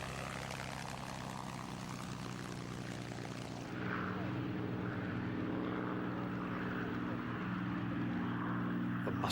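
P-51 Mustang warbirds flying in formation at the Duxford Flying Legends air show, a sustained propeller-engine drone that deepens and swells partway through as the aircraft pass closer, droning on steadily to the end.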